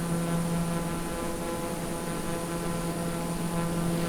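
TBM turboprop airplane engine in Microsoft Flight Simulator, a loud continuous droning hum with steady tonal whine, unbroken throughout.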